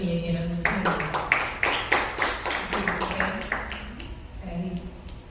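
Clapping from an audience at a poetry open mic during an arts writing workshop, made of a run of sharp, evenly spaced claps that taper off, heard alongside a speaking voice.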